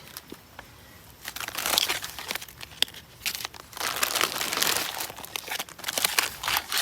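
A plastic bag of jerky crinkled and handled up close, with bursts of loud crackling and rustling separated by brief quieter pauses, and no voices.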